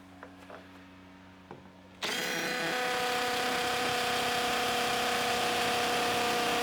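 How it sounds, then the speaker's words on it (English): A power drill bores a hole for mounting a generator cellular monitor, starting abruptly after a couple of seconds of quiet handling noises and then running loud and continuous with a steady whine. "first we have to do is we need to drill the hole."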